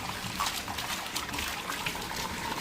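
Soft, continuous trickle of water with faint scattered drips from a leaking roof, quiet and steady, no voices.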